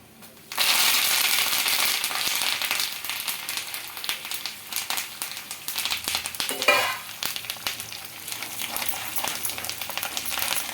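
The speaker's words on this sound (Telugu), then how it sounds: "పోపు మనకు బాగా ఫ్రై అవ్వాలండి" Cumin seeds, dried chillies and curry leaves crackle and sizzle loudly in hot oil as a tempering for raw mango chutney. The steady frying starts abruptly and continues throughout, close up, with faint stirring.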